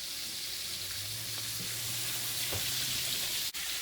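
Skin-on red snapper fillets frying in hot oil for crispy soul food fried fish, a steady dense sizzle with a low hum running underneath and a brief sharp click near the end, no talking.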